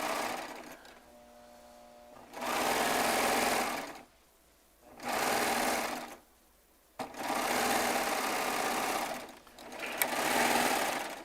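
A Baby Lock Triumph serger runs in four loud, steady whirring bursts of about two seconds each, with quiet pauses between them.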